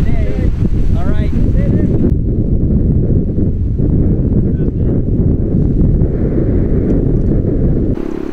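Strong wind sweeps a kitesurfing beach at La Ventana, Mexico, roaring and buffeting the microphone in a steady, loud rush for the whole stretch, with a voice briefly audible near the start.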